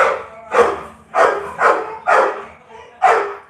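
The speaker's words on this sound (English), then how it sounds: "Sorry about my dog, yeah." A dog barks six times in an evenly spaced series, each bark loud and close, alone with no talking over it.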